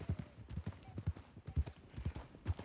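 Horse hooves clip-clopping in the RedM game on a mountain route, a steady rhythmic series of close, thudding steps running through the whole stretch with no talk.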